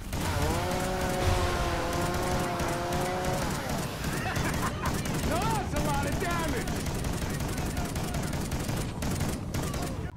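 Sustained heavy gunfire at a barrier hive in Call of Duty Extinction, dense rapid shots continuing throughout with chaotic game noise underneath and a voice talking over it early on.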